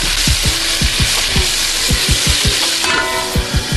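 Chicken pieces frying in a lidded pan, a steady broadband sizzle with repeated close scraping and stirring strokes from a utensil against the pan, loud and without talk.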